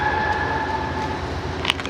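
An Amtrak train ride: a steady low rumble and hiss of the rail car in motion throughout, with a brief sharper clank near the end and no talking.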